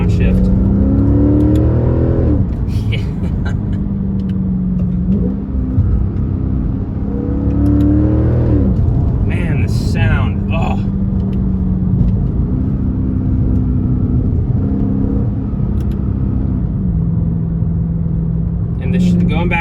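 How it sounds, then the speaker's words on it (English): A Mercedes C55 AMG engine drones and rises through gears, with sharp revving blips and rumbling overrun as it downshifts, while people talk over it. "the blips on the downshift, and then the overrun if you downshift."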